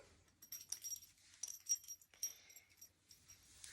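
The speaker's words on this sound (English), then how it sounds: "That was Dana Dog. She's a bit shy. She's run off now." A shy dog moves nearby with faint jangling of tags or keys, soft snuffling and brief scuffles at low level, with no voices.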